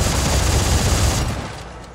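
Rapid SMG fire in the video game Dead Space 3, a loud continuous burst of automatic shots that runs for over a second before tapering into fading reverberant echoes.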